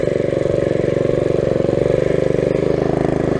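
A minibike engine runs at a steady, loud, close idle-to-mid rev with a fast even pulsing drone and no clear rise or fall.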